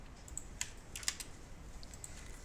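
Two or three crisp, close clicks from a computer keyboard as a Ctrl+I shortcut is pressed in After Effects to import a file, with quiet room tone between the presses.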